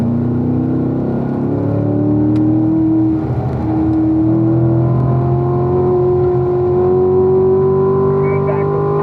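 A race car engine drones steadily and climbs in pitch as it accelerates, loud and close, with a rising whine throughout.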